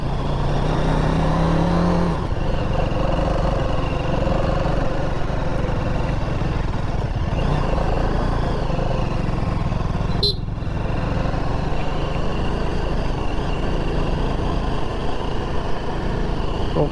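A vehicle from Kerala drives past on a misty hill road near Kodaikanal, its engine a loud, constant drone heard from inside a moving vehicle, with brief voices over it.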